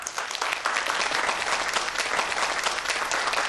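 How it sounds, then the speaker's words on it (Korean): Audience applause welcoming a lecture guest onto a Korean science talk show stage, a dense, steady wash of clapping from a sizable crowd lasting the whole stretch without voices. "나원교육연구소의 박영훈 소장님을 큰 박수로 모시겠습니다"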